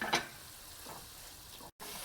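Caponata vegetables sizzling softly in a pan as a splash of added water evaporates, a quiet steady hiss with a brief louder crackle at the start.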